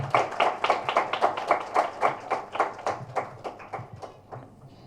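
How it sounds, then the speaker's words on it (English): Audience applauding at a health and medical excellence awards ceremony as a chairman is welcomed to the dais, a burst of rhythmic claps that gradually thins and fades out. "some good claps"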